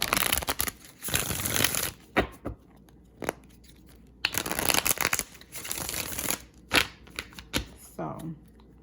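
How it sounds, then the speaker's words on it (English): Tarot cards riffled and shuffled in several quick bursts of papery flutter and snaps, close and fairly loud, with brief pauses between bursts and some speech around them. "I'm going to shuffle these cards a little more."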